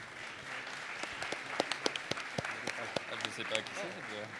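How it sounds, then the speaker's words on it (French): Audience applauding a prize winner at a business awards event, steady clapping from a crowd with sharp individual claps standing out, continuous across the clip. "Et on vous applaudit encore"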